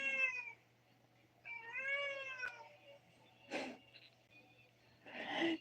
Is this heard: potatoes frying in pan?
no